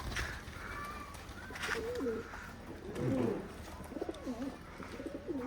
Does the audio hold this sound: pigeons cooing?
yes